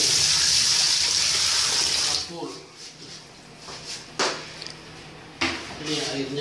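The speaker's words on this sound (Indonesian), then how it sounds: "inilah dalam pengisian air" Water rushes loudly into a leaking washing machine for about two seconds, then stops abruptly. After that come quieter trickles and drips with a few sharp knocks and clatters of the machine. A voice speaks in the background.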